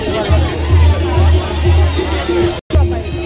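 Crowd of pilgrims and tourists at Shri Rameshwar temple in Chaul during Deep Purnima, a dense babble of many voices close by, with louder nearby speech rising and falling over it and a brief dropout near the end.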